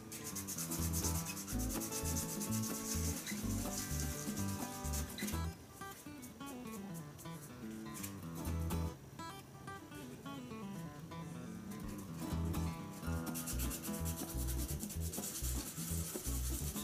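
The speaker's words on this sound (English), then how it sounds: "So I'm just going to rough that up now, so it gets a good bond in the epoxy once we eventually set it in." Steady, continuous sanding rubbing on a straight razor handle, roughing up the surface before epoxy, close and loud with a dense rhythmic scratch and no talking.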